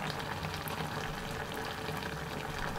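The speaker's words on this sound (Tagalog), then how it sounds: "Hayaan po natin dyan nakumulo." Bitter melon (ampalaya) with kidney beans boils in a pot, a steady close bubbling and gentle sizzling hiss that continues without a break and without talking.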